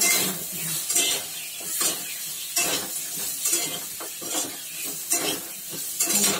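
Ginger sautéed with spices in a pan gives a steady near sizzle, broken by repeated stirring scrapes and a few light clinks of a utensil against the pan, with no voices.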